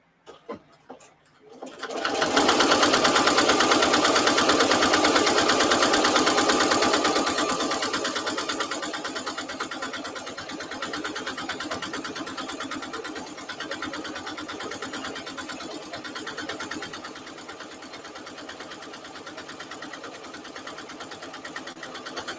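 A sewing machine runs steadily while stitching a fabric placemat, a continuous loud whirring that eases slightly after the first few seconds and carries on without a break.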